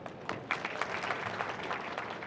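An audience at a public rally in Shegaon, Ahilyadevi Nagar, breaks into brief applause, a faint, distant patter of clapping lasting about two seconds.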